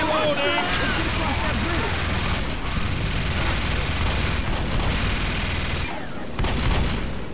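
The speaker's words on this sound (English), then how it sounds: "I'm using the minigun for a bit." A minigun firing in the zombie shooter Left 4 Dead, a continuous dense roar of rapid gunfire mixed with booms and game noise. Players talk over it throughout.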